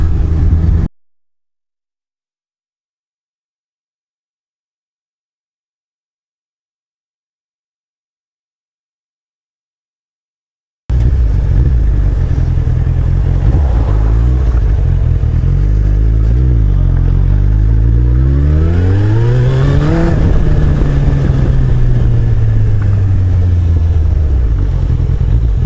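A motorcycle engine, the bike set up for a burnout, cuts off briefly, then returns with loud revving, pitch sweeping up and down in repeated climbs and falls before a strong rising rev near the end.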